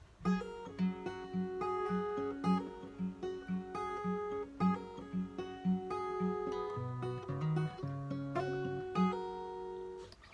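An acoustic guitar plays a bright, rhythmic riff with repeated plucked bass notes and strummed chords, steady and close, no voices.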